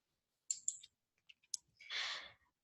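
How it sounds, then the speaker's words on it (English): Light mouse clicks while formatting line spacing in a Google Docs document: a few soft, crisp clicks close by, followed by a short breathy exhale. "we'll hover over Line Spacing, and we'll click on Double."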